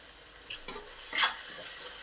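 Cut tomatoes frying in hot oil in a pan while fish curry (chepala pulusu) is being made, with a soft steady sizzle and a few brief scraping stirs of a utensil against the pan, close and fairly quiet, no talking.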